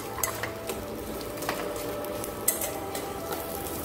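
Cumin seeds and spices lightly frying in a pan for tomato mint chutney, with a low sizzle under occasional clinks and scrapes of a spoon against metal.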